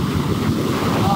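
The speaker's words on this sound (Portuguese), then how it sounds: "Porque tem umas ondas que vem mais forte, né?" Ocean surf rolls in and washes up on the shore in a continuous heavy roar, with strong wind buffeting the microphone and no pause in the noise.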